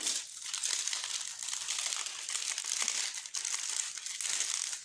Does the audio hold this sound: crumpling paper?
yes